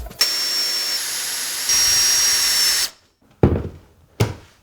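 A power drill drives a screw into a wooden plank with a loud, steady whine that steps up in pitch partway through, then cuts off, followed by two short knocking bursts nearby.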